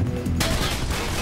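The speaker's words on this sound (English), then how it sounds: "they're shooting the crap out of the vents." Dense, loud barrage of gunfire peppering metal vents in the video game Mirror's Edge, a continuous rattling wash of shots heard up close.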